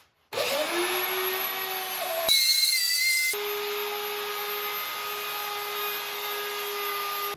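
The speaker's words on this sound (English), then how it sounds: "now I got to use the router to carve the rest of this recess in the bottom" A wood router whines loudly and steadily as it carves a recess into the underside of a homemade router sled, a continuous high-pitched motor roar that shifts pitch briefly midway as the bit engages the wood.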